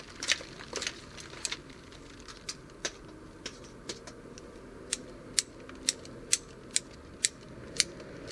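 Hand hedge shears trim a Leyland cypress hedge, giving a series of crisp metallic snips and clacks, irregular at first and then settling into a steady rhythm of about two cuts per second, close and alone.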